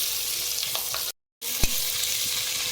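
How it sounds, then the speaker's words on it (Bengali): Spices frying in a little oil, a continuous bright sizzle close up with a brief cut in the middle and a single knock of a utensil, no talking. "অল্প তেল দিয়েছি। মশলাগুলো ভেজে নেব।"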